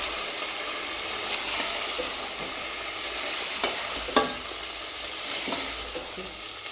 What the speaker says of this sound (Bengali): পেঁয়াজটা লাল হয়ে গেছিল আমার ভাজা।